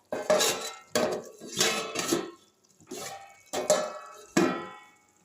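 A metal lid clangs down onto a pan of spinach and fish head curry, five or six loud ringing clanks with short metallic decays, close and alone.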